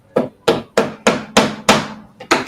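A hammer drives small nails to tack down a wooden part of a homemade router table, with about eight sharp, evenly spaced blows that ring close and loud.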